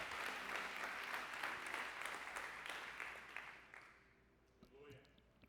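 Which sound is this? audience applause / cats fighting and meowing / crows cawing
audience applause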